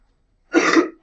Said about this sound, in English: I appreciate that you're covering your cough, but that sounds bad.